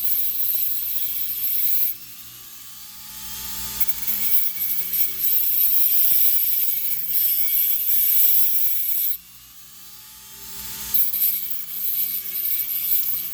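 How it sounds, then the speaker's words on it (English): Abrasive grinding of a flathead slot into the top of a stripped steel bolt on a VW Mark IV Jetta shifter plate, a steady whining grind with a brief pause around two seconds and a longer break near nine seconds before it resumes. "I'm grinding what is effectively a flathead slot into the top of said bolt."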